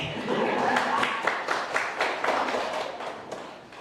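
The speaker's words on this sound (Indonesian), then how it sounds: "Tepuk tangan buat Bu Doni." Applause in a teacher training session, a group clapping unevenly with distinct hand claps that start fairly loud and thin out toward the end, with faint voices underneath.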